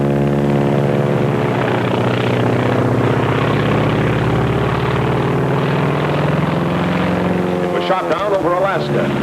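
A Mitsubishi Zero fighter plane, one shot down over Alaska, gives a loud, steady piston-engine drone with strong harmonic layers that holds throughout, briefly wavering near the end while someone talks over it.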